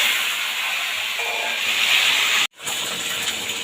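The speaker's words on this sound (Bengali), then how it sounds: "এবার একটুখানি লবণ দিয়ে আমি ডিমটাকে বেশ ভালো করে লালচে রং ধরিয়ে ভেজে নেব।" Boiled eggs frying in oil in a kadai, giving a steady, close hiss and sizzle that drops out briefly and then resumes.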